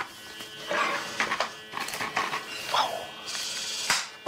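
A hand-held Aladin food smoking gun runs with a steady close electric buzz, its tone wavering slightly as it works, joined by a few brief knocks and handling noises.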